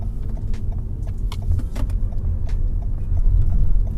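2020 Toyota Camry Hybrid pulling away under hard acceleration from about 20 mph: a steady low road and drivetrain rumble that swells slightly toward the end, with faint interior clicks and no talk.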